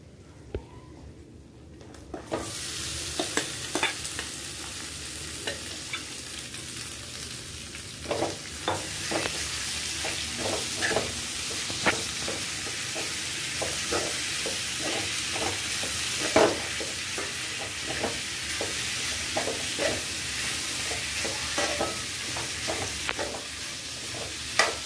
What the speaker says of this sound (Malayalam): ഇനി ഞാൻ പാവയ്ക്ക ഇട്ട് കൊടുക്കുകയാണ്